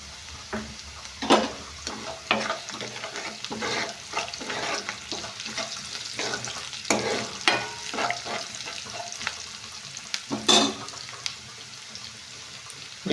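Ridge gourd curry fries in a pan while a spoon stirs it, bringing a soft continuous sizzle broken by repeated scraping strokes and clinks at close range, with no talking.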